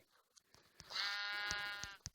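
A lamb in the video game Minecraft lets out a single drawn-out bleat lasting about a second, fairly quiet, with some soft clicks around it and no talking.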